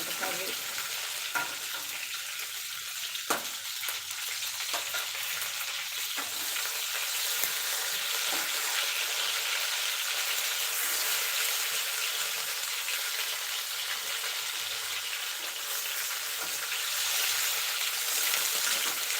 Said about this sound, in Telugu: మంచిగా ఫ్రై అవ్వాలి అలానే మాడిపోకూడదు